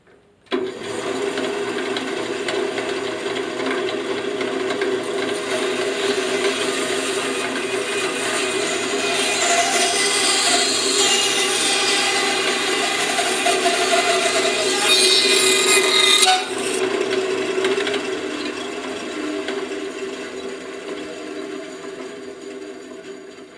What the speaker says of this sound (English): Back at the bandsaw to cut the individual leaves.